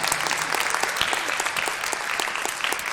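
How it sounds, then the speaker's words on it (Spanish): An audience at a live science show gives a round of applause for Boku no Hero Academia, a brisk, even patter of many hands that holds steady for a few seconds. "Un aplauso para Boku no Hero Academia"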